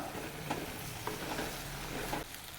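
Ash gourd and slit green chilies sauté in a pan, a low steady sizzle with occasional stirring clicks, faint and close with no voices.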